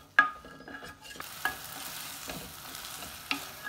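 Pigeon peas in a thickened sauce being stirred in a pan, with a steady soft sizzle and a few sharp spoon knocks against the pan, close and steady with no talking.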